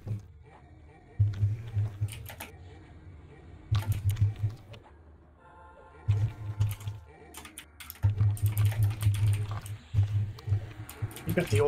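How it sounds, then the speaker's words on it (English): A clicky keyboard rattles in bursts of rapid keystrokes while someone talks over it, with short pauses between the flurries of typing. "Got the old clicky keyboard"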